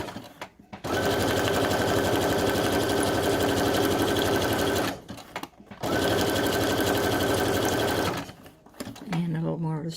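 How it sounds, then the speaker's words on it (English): A sewing machine stitches fabric for Halloween pockets, running in two long steady whirring passes with a brief pause between them, followed by a short stop and restart near the end. "And a little more of a straight stitch."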